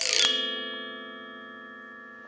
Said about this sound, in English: we can run the mallet along the full length of the wing, giving us a sound like this